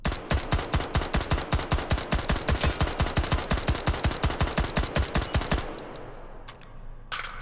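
UMP submachine gun in the VR shooter Hot Dogs, Horseshoes & Hand Grenades firing a long, even full-auto string of about forty close, loud shots with crisp brass tinkles, then stopping, followed by a few faint handling clicks.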